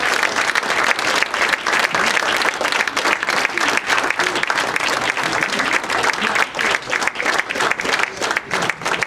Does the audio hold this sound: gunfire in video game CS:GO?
no